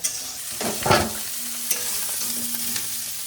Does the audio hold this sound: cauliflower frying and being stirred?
yes